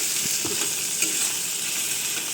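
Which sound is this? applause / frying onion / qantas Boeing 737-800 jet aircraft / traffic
frying onion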